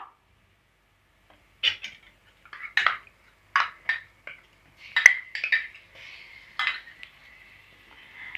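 Ginger garlic paste being sautéed for crab gravy in a pan, heard as scattered metallic scrapes and clinks of a spoon against the pan, close, separated by short silences, with a soft sizzle toward the end.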